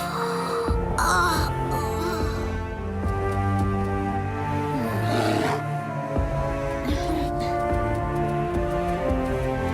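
A great bear spirit in a cartoon lets out loud roaring growls over a dramatic orchestral score, the bellowing rising and falling across the scene with no speech.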